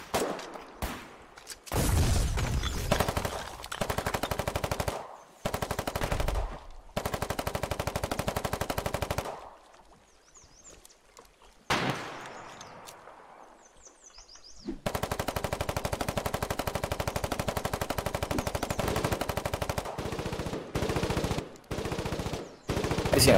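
Sustained volley of gunfire after a fire command in a foxhole combat setting, dense rapid bursts like machine-gun fire that start and stop abruptly in several long strings, loud and close, with a short lull midway.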